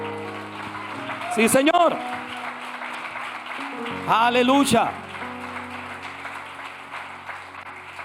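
A church congregation claps steadily as a background wash, while a voice calls out short, loud exclamations of praise over it twice.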